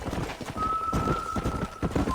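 Rhythmic horse hoofbeats clip-clop steadily at close range in a video game, with a brief horse whinny and a sustained tonal hum running underneath.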